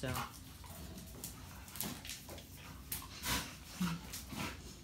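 Dogo Argentino dogs playing roughly together, with close-up snorts, panting breaths and brief whimpers over a steady, noisy background, scattered across the whole stretch.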